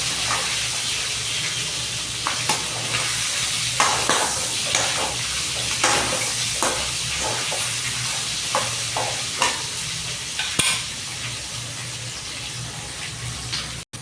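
Chicken pieces sizzle steadily while frying in a pan, with repeated scraping stirs breaking through the continuous crackle at close range; no talking.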